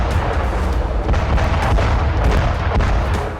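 A FAB-500 aerial bomb explosion: a massive, roaring blast rumbles loud and continuous, deep booming noise rolling on for several seconds without any voices.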